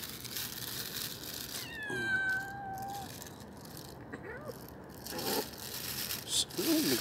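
Stray cats squabble over chicken bones outdoors, giving a short drawn-out meow or growl followed by scuffling, crinkling and scraping sounds, faint and close, with brief low talk.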